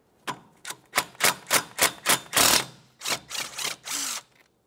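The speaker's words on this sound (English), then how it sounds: "Remove the 10mm headed bolt and then the sensor." A 10mm bolt is backed out from the ABS sensor on a 2006-2011 Honda Civic steering knuckle with a ratchet, giving a close run of about a dozen sharp clicking bursts in quick rhythm, then a short metallic scrape.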